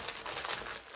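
Stiff plastic packaging around a Booksleeve crinkles and crackles continuously for about a second, close and fairly loud, with no voices.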